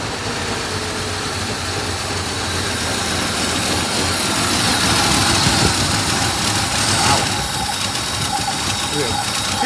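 A 1962 Chevy II engine idles steadily in a garage, a continuous mid-low rumble that rises a little in the middle, with people talking nearby over it.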